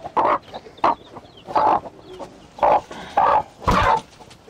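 A broody hen in a chicken coop gives a string of six loud, close clucks in an irregular rhythm, with no talk alongside.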